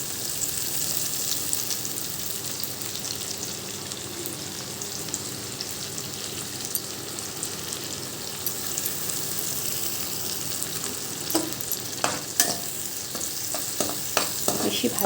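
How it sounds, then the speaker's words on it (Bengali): Onion and small chopped tomatoes frying in oil for a fish curry, giving a steady close sizzle throughout, with stirring scrapes and clinks in the second half. "যতক্ষণ ভাজা হচ্ছে পেঁয়াজ আর টমেটোটা তেলেতে"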